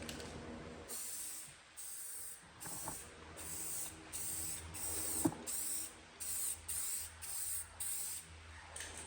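A first coat of spray paint goes onto a Kritter Gittr build in a string of short hissing bursts, about a second each with brief gaps between them, fairly close.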